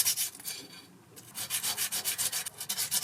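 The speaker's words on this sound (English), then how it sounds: "peel some of this off and use it to sand down my bezel" Abrasive paper peeled from a cartridge roll rubs back and forth on a silver ring bezel, a steady rhythmic scratchy sanding with strokes about twice a second, close and alone, with a brief pause near the start.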